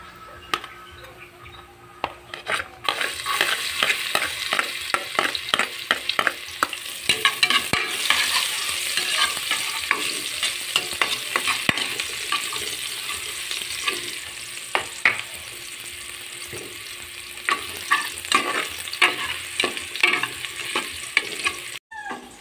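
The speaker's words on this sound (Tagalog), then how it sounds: "Pakulo mo na siya ng mantika. Gisa mo na tagbawang" Garlic sizzles and fries in hot cooking oil in a pan as a spoon stirs and scrapes it repeatedly, a steady close crackle dotted with sharp utensil clicks.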